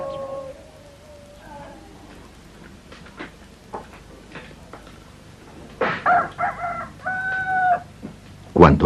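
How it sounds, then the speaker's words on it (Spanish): A rooster crows loudly and close by, its drawn-out call rising over quieter clucking and scattered farmyard noises, ending with a short sharp burst. "Cuando canta el gallo,"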